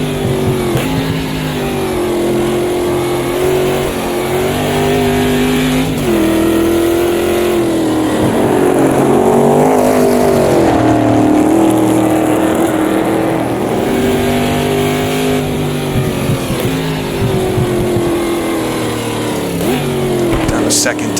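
A powerful American race car in the Automobilista 2 video game at the Rouen circuit, its engine droning loudly and continuously with rising and falling revs and gear changes over about twenty seconds.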